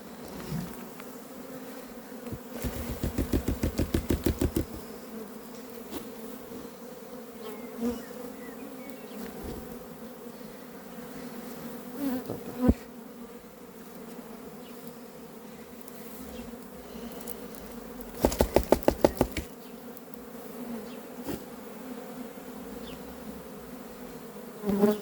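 A swarm of honeybees hums steadily during the collection of a swarm for hiving, a constant close drone with a few louder rising bursts as bees pass near, and no talking.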